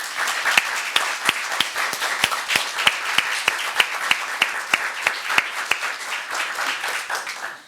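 Applause from an audience at a YWCA sexual assault awareness press conference, many hands clapping steadily with a clear, even rhythmic beat of strong claps running through, no talk over it.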